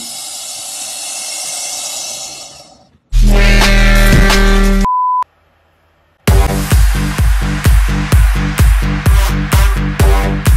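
An EDM future bounce track produced in FL Studio, opening on a hissing noise sweep, then a loud sustained synth and bass chord, a brief pure tone with near silence, and a punchy rhythmic drop with steady thumping kicks and bouncy synth stabs.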